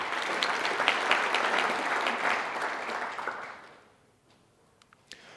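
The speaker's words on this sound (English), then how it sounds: "Please give me a round of applause." An audience applauds a sponsor at a conference opening ceremony, a dense burst of clapping that holds for about three seconds and then fades to scattered claps and quiet.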